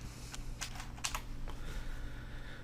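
Quick bursts of keystrokes on a computer keyboard, light clicky taps in short clusters over a steady background hum, with no one speaking.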